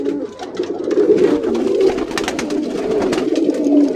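Crowd of pigeons at a pigeon sale cooing nonstop, a thick, close chorus of overlapping low throaty coos with faint flutters and clicks mixed in.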